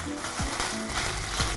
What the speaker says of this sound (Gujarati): આને એકાદ મિનિટ માટે આવી રીતે સોતે કરી લેવાનું